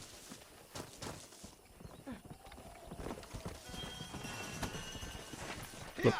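Horse hooves clip-clopping in the video game Red Dead Redemption, a steady walking gait of soft hoof taps throughout, with a faint ambient bed and scattered game noises.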